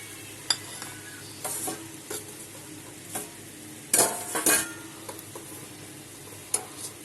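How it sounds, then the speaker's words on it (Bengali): Six pre-fried pointed gourds (potol) and a little water go into a hot pan for doi potol, making a soft sizzle broken by a few scraping stirs. A louder burst of hissing and clatter comes midway, and no one speaks. "এখন দিয়ে দিলাম আগে থেকে ভেজে রাখা 6টা পটল দিয়ে দিলাম, আর দিলাম টক দইয়ের বাটিটা ধুয়ে অল্প জল"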